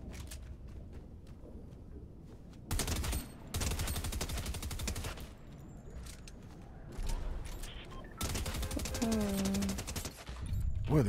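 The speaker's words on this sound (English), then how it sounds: "Boy, the recoil on the combat SMG is something else." Bursts of combat SMG fire from Fortnite come in several dense, loud stretches, split by quieter gaps of game ambience and a brief rising tone.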